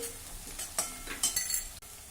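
Onion and kharda, a coarse chilli-garlic paste, sautéed and stirred in a pan for a village-style okra dish, with steady sizzling under repeated scraping strokes of a spoon against the metal.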